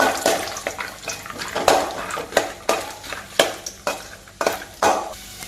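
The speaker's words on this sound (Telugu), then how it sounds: "దానిలోనే పల్లీలు వేసేస్తున్నానండి ఒకసారి మొత్తం కలిపేస్తున్నాను" Peanuts, cashews and cardamom are stirred with a spatula and fried in oil in a pan while carrot rice is being made, giving repeated scraping strokes over a soft sizzle at a close, uneven rhythm.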